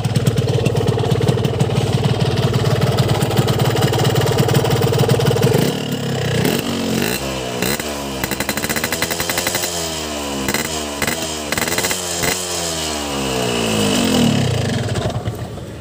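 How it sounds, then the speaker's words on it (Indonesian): A CTX 2T two-stroke motorcycle engine, running on two-stroke oil, idles steadily with a dense low chatter, then is revved repeatedly in sharp rising and falling bursts that crackle and pop, loud and close with no talk. "Untuk suara mesin sih lumayan renyah ya, renyah. Kalau kita lihat kalau digeber gimana."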